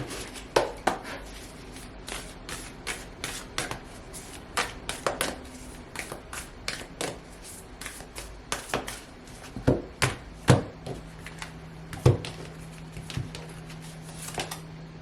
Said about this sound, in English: I'll actually shuffle this one